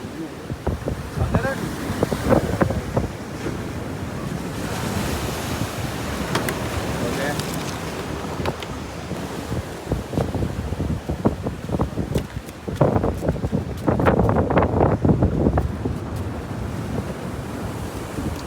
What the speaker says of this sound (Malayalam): നല്ല തിരമാല ഉണ്ട്